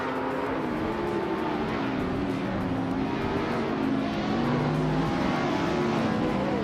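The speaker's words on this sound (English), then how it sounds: "the race is underway at Lakeside Park, and up front we have Crandy Live on pole driving a flashy 2014 Ferrari F60 America" A 2014 Ferrari F60 America races in a video game at Lakeside Park, its engine droning steadily and loudly with shifting pitch as it accelerates, alongside other cars' engine noise.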